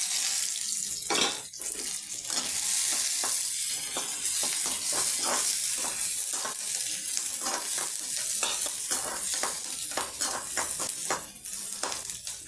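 Chopped onions and curry leaves sautéing in a hot pan give a steady, close sizzle, broken by repeated scraping stirs at an uneven rhythm, with no voices.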